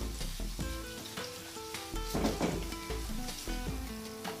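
Indian kadhi tadka of spices hitting hot oil sizzles and crackles up close, a dense frying hiss with clinks and stirring scrapes from the pan and utensils, no talking.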